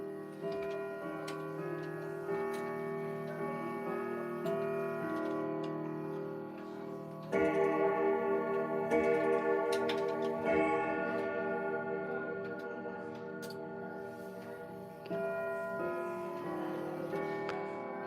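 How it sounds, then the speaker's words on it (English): Several wound mechanical clocks, wound every eight days, tick steadily together in a room, a layered, close and continuous ticking with tonal ringing overtones and no talk. "I'm currently winding the clocks because every 8 days they wind down and need to be wound back up"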